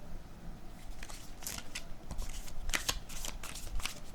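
Tarot cards being shuffled by hand, a steady papery riffle of soft flicks and slaps with a few sharper card snaps, close and alone with no talk.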